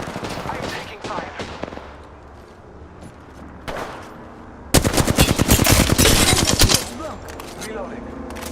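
Video game gunfire, a dense burst of rapid automatic shots loud and close, with scattered single shots before it and voices talking around the firing.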